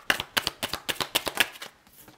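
Cards riffled in a quick run of about eight crisp, evenly spaced bursts close to the listener before tailing off, with no talking.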